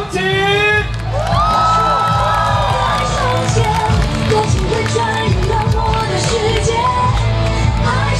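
At a Taichung gay pride march, a large outdoor crowd cheers and shouts in a continuous loud roar to welcome a rainbow flag, with whoops rising above the din and voices calling throughout.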